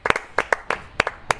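Sharp, close hand claps, roughly eight quick bursts in an uneven rhythm, standing alone without talk.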